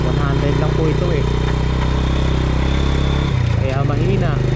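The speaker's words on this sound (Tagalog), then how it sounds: "Mahina ang motor natin. 100 lang po ito eh." A 100cc single-cylinder motorcycle rides along a road, its engine droning loud and steady close by, the pitch shifting briefly near the end.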